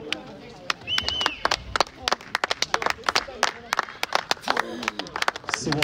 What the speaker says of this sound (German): Ronny Müller kriegt dringend hier einen dicken Applaus von den Rängen.